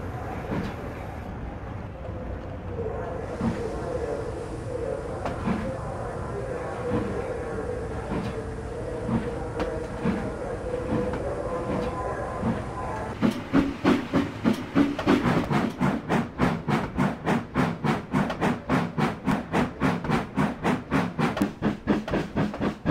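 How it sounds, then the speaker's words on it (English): A train crosses the Tay Bridge out of Dundee, first a steady rumbling hiss from inside the carriage, then a fast, regular clatter of wheels over rail joints taking over for the last stretch. "Let's get on the train and we'll go over our first bridge, which is the Tay."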